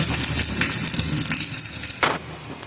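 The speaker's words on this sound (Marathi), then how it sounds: "भाजीला तडका देऊया" Hot ghee sizzling with garlic and chili in a tempering for palak paneer, a steady close crackling hiss with a brief louder splash near the end.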